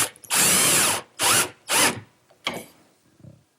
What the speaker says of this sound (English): it's just a matter of driving the screw until it's pulled together